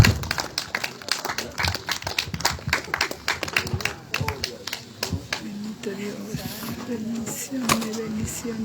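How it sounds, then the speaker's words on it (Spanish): Church congregation clapping hands for Christ at a morning service, rapid uneven claps from many people, loud and close, with spoken and sung voices mixed in. "Palmas para Cristo en esta mañana, hermanito."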